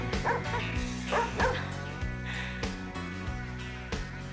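A dog in a TV drama scene gives a few sharp barks and yips, loud and close, over a steady background music score.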